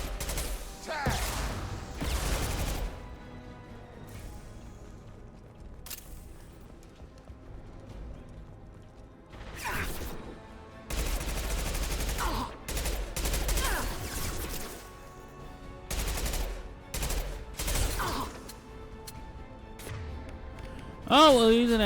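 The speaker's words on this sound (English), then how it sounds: "Oh, I hate the machine pistol." In Mass Effect 2 combat, a machine pistol fires in rapid bursts amid other game gunfire and effects, loud and repeated with gaps, while a person talks over it.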